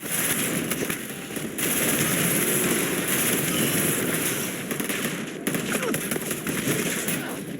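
Rapid bursts of crackling explosive gunfire from a legendary weapon in Starfield, dense and continuous with a few sharper pops and brief gaps.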